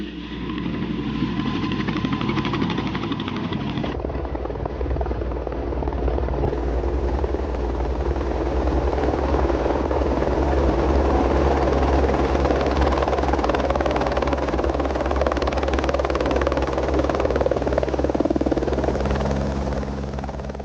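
A helicopter roars continuously close by, its rotor thudding under a loud engine whine that stays steady throughout.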